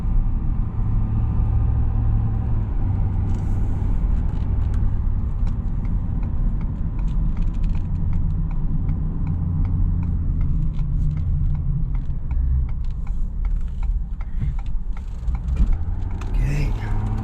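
A Ford Super Duty pickup truck's engine hums in a low, steady rumble from inside the cab at light throttle, barely revving, with light road noise throughout.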